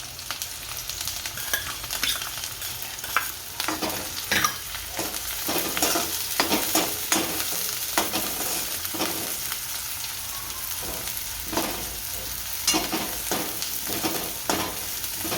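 Green garlic and green chilies roasting in hot oil in a pan, a continuous close sizzle broken by frequent scraping stirs and spoon taps, with no voices.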